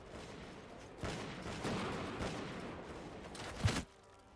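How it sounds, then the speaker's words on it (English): Gunfire in the video game Bannerlord Europe 1700, a few muffled volleys and one sharper nearby shot near the end, set against steady battle noise. "They're shooting me off the ballista, which isn't great."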